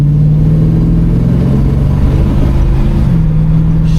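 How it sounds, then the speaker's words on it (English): A 1987 GMC Caballero's engine is revved under acceleration, a loud, close, sustained mid-pitched drone that climbs and shifts pitch steadily with no voices. "Let me go ahead and give it some gas."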